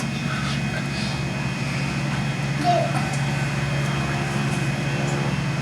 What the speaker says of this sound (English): Look at that taxiing in.